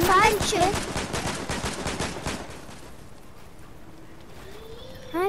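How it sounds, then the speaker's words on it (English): Rapid video game gunfire in Fortnite, a quick run of repeated shots for a couple of seconds that fades into quieter ambience, with a voice speaking over the start. "I'm getting shot at"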